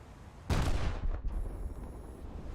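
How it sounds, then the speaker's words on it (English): A torpedo explosion strikes an enemy warship in a naval combat game set in the Dover Strait: one sudden loud blast with a deep rumbling boom that rolls on and fades, leaving a low roar beneath. "I see a torpedo impact on the enemy ship"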